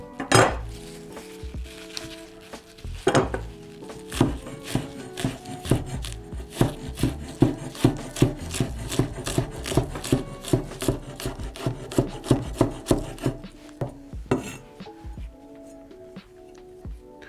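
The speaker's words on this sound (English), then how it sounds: "we are going to chop these wild garlic leaves and combine them into the dough" Rapid knife chopping of wild garlic leaves on a wooden board, a quick steady rhythm of crisp taps close by, with occasional pauses and scrapes.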